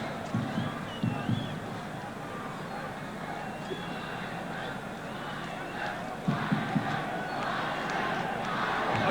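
Football stadium crowd of about 15,000 at the 1981 Danish cup final between Frem and Vejle, rhythmically chanting for Vejle as a steady roar with periodic surges, heard under commentary.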